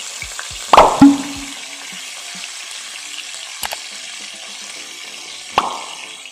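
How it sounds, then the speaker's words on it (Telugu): Fish sizzling as it goes into hot oil, a sharp splash and burst of frying near the start, then a quieter sizzle with a few later clatters and plops, no talk. "చేపల్ని నూనెలో వేసుకోవాలండి"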